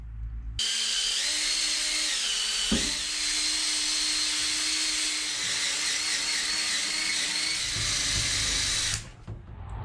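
A power drill used for polishing paint whines steadily at high pitch for several seconds, loud and close, then cuts off abruptly near the end.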